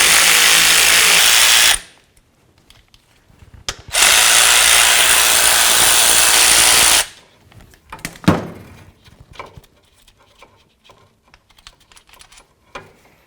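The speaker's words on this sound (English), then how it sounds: "Now we're going to have to remove our mounting bolts." A pneumatic or power ratchet backs out 10mm mounting bolts holding a 4WD actuator motor to the transfer case of a 2007-2017 Ford Expedition. Two loud sustained whirring bursts are followed by quieter clinks and scrapes of loose parts.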